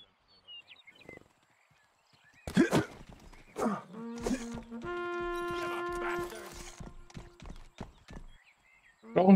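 Horse hooves clip-clop in the video game Rustler, a sequence of sharp hollow knocks mixed with a drawn-out whinny and game tones, with a player talking at points.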